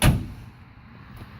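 A restored classic car door gives a single sharp thump at the start, followed by a faint settling rattle and quiet background.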